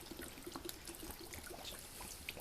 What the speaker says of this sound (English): that's poured directly in over the battery